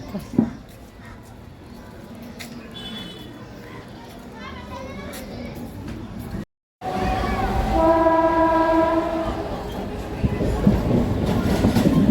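A train rumbles past with a loud horn blast in the second half, while children's voices and chatter fill the background throughout.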